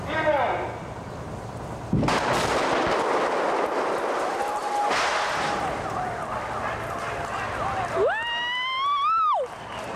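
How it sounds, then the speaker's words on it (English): A film stunt explosion goes off in an evacuated street with a sudden loud blast that settles into a long rumbling roar, followed by rising, wailing tones near the end. "and then we did the explosion."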